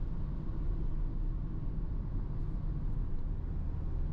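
A 2022 VW Transporter TDI van with an automatic gearbox in third gear cruises along the autobahn, giving a continuous, heavy low rumble of engine and road noise heard from inside the cabin.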